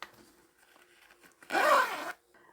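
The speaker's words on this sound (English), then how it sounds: "Open the zip all the way." A clothing-style zipper is pulled open in one quick continuous run, a close, loud rasping burst lasting about half a second amid otherwise quiet handling.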